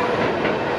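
A train passing by near Abisko National Park in Swedish Lapland, heard as a steady, close rumble with a rushing hiss of wheels on rail, no clear clacks in the short stretch.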